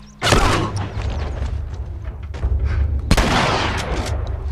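Ellie fires a rifle in The Last of Us, with two loud, sharp blasts about three seconds apart, each trailing off into a rumbling echo over low background ambience.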